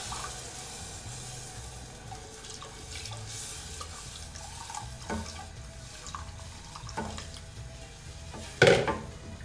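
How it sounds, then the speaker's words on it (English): Cooking liquid poured from a pot into a thick flour paste while making white sauce for lamb's feet, a steady running, splashing wash of liquid with faint clinks of cookware, moderately close and without talk. "So we're just going to pour the cooking liquid into our paste."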